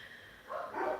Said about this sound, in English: Sorry about the dogs. There they are freaking out about that.